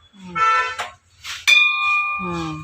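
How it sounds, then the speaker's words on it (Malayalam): A bell-metal bell cast at a Mannar foundry in Kerala is struck once in the middle, giving a clear ringing tone that lingers. Someone talks just before and after the strike. "മണിയുടെ സൗണ്ട്"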